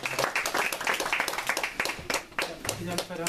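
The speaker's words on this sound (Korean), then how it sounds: "우리 하나님께 영광의 박수 올려드리겠습니다." Congregation at a Korean church's Saturday worship service breaking into applause after a closing prayer, dense clapping filling the room alongside overlapping voices.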